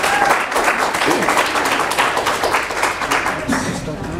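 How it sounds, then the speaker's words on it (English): Audience applause for a session facilitator at a youth dialogue on ethical leadership, a dense steady wash of clapping that holds for several seconds at even loudness with talk mixed in. "Can we give him a round of applause, please?"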